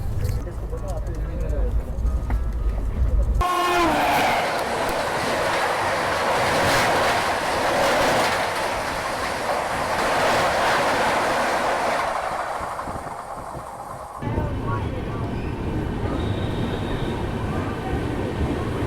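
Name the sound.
Bhopal Shatabdi Express train arriving at Lalitpur Junction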